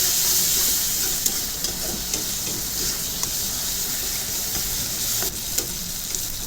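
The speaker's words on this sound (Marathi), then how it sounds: "एक मीडियम आकाराचा टोमॅटो तो देखील बारीक चिरून त्याला 2-1 मिनिटं मोठ्या आचेवर थोडासा सॉफ्ट होईपर्यंत आपल्याला फ्राय करून घ्यायचा आहे" Finely chopped medium tomato frying in a pan over high flame, a loud steady sizzle with faint stirring clicks throughout, no voices.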